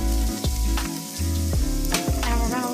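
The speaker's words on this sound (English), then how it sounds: "we're going to let that saute for 3 minutes" Chopped onion sautés in hot olive oil in a saucepan, a loud, close sizzle running through the whole short moment.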